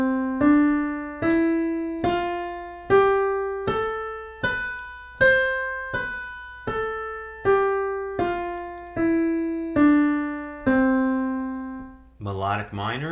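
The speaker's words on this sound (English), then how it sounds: "The major scale sounds like this." A guitar plays the major scale, one clear plucked note roughly every second and a half, each note ringing and decaying, climbing step by step and then descending before a brief final strum.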